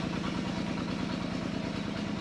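A tractor engine chugs steadily with a low, rhythmic diesel throb, continuous and fairly loud throughout.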